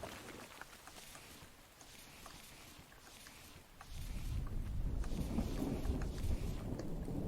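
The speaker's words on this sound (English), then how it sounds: "it's raining, so we'll be getting some water collected up" Rain falling in the survival game Infected, a steady hiss that swells louder midway, with a low rumble suggesting thunder and no talk over it.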